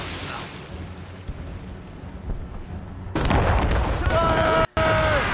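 Ship-mounted mortars boom in Assassin's Creed Rogue during a naval battle, a sudden heavy blast that swells into a loud, sustained roar of fire with a brief cut partway through, while a voice talks over the earlier quieter stretch.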